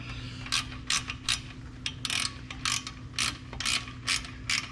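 An 8mm bolt on a KTM 890 Adventure R skid plate is snugged down with a ratcheting wrench, giving repeated short bursts of clicking pawl strokes in an uneven rhythm, close and fairly loud with no talk.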